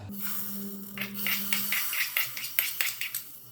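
Hot banana pachadi for a Kerala sadya is scraped from a pan into a pressure cooker, giving a quick series of close metallic clinks and scrapes of a spoon against the vessel, with no talking.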